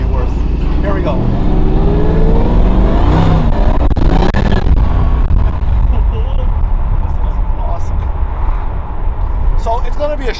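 A Mercedes McLaren SLR supercar engine revving as it drives on slippery tires, a loud, close, throaty roar that rises and falls in swells, with talk running over it throughout.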